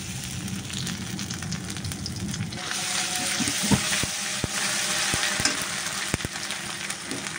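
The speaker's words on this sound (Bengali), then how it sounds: "আদা রসুনটা একটু ভাজা নিলাম।" Ginger-garlic paste frying in hot oil in a wok, a steady broadband sizzle running throughout, with scattered sharp clicks and spatula scrapes in the second half.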